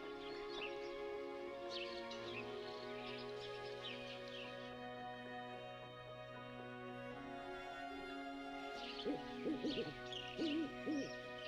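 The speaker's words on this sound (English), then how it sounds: "one of its loudest voices," A barred owl hoots in a forest, a low rhythmic series of calls heard at moderate distance over a faint steady background, with softer bird chirps scattered throughout.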